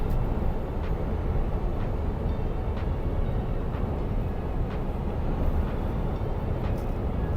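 A local train rumbling past at a steady distance in Austria's Inn valley, Tyrol, a low continuous roar with faint periodic clacks from the wheels, no voices.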